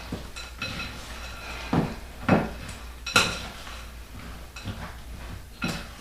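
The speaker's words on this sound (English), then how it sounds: "And we're just gonna fold this in here." Semi-sweet chocolate chips are folded into cookie dough in a bowl, with repeated close scraping and soft clinks of a utensil against the bowl in an irregular rhythm.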